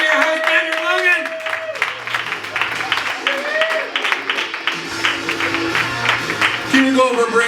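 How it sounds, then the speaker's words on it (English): An audience at a comedy show claps and cheers loudly, with applause swelling and holding steady while a voice speaks over the crowd. "Give a round of applause for your host, Andrew Logan."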